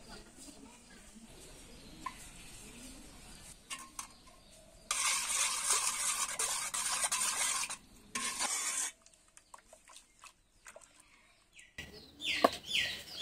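Yogurt mixture whisked for ice cream, fast rhythmic scraping and beating in a bowl that comes in bursts, loudest in the middle, with quiet stretches and faint background sounds between them.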